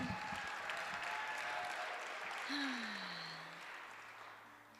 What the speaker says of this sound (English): Can we give a round of applause to Eric for running sound tonight?